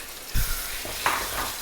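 Tomatoes tipped into a pan with frying brinjal for a Tamil fish kuzhambu, a brief close sizzle with a couple of stirring scrapes and a soft clank, no talk.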